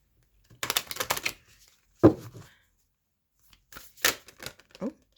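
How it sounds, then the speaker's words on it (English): Moonology oracle cards shuffled by hand in several short bursts of crisp riffling and slapping, close and fairly quiet, separated by silent gaps, with a voice speaking briefly in between. "I'm going to shuffle the Moonology cards"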